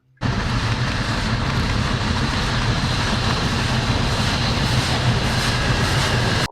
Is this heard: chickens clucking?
no